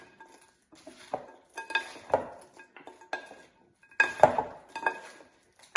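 A spoon stirs a panzanella salad with dressing in a bowl, giving repeated clinks and scrapes against the bowl in bursts, close and fairly quiet, with no talking.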